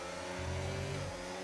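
Racing car engines in an F1 25 video game race, a steady mid-pitched drone that swells into a louder revving surge midway and then eases back, continuous with no voices.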